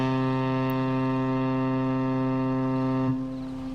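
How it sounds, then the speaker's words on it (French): A loud, steady foghorn blast in a virtual reality world, a deep harmonic tone holding for about three seconds before cutting off abruptly, with no voices over it. "Klaxon."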